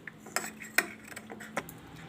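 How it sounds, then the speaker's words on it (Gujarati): A spoon stirs tea made from premix in a cup, giving a few bright metallic clinks against the sides at an uneven pace, close and clear with no talk. "આને હલાવી લેવું."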